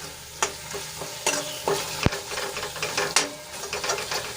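Spoon stirring garlic curry masala in a pan, quiet sizzling frying underneath with irregular scraping strokes and a few sharp knocks against the pan, no talking.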